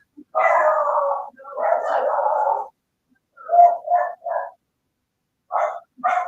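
Dogs bark loudly nearby: a couple of long, drawn-out barks, then a cluster of short sharp ones, a pause, and two more barks.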